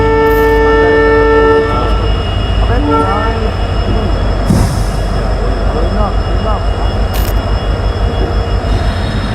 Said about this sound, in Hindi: ये तो रेल की पटरियां भी अंदर कोयला आ रहा है।